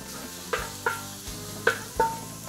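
Thin strips of beef sear quickly in a hot pan for a campfire-style paella, with four or five sharp scraping stirs over a low, steady sizzle.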